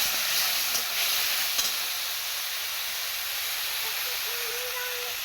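Cauliflower curry cooking in a pan gives a steady, close sizzling hiss with a few faint clinks early on, constant and even throughout.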